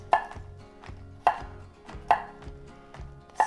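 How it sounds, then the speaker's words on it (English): A kitchen knife rough-chops three garlic cloves on a board in sharp, close, irregular strikes, with several louder chops among lighter taps and no voices. "I'm also gonna give our garlic a rough chop"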